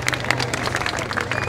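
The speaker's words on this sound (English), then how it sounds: "Give them a big round of applause." An outdoor crowd at a playing-field event applauds a group of Irish dancers, a brief burst of clapping that comes through moderately loud, with some voices mixed in underneath.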